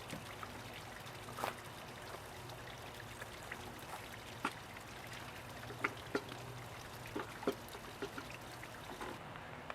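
Water drains from a swimming pool filter with the plug removed, a faint steady trickle broken by scattered small drips and splashes at a quiet, close range.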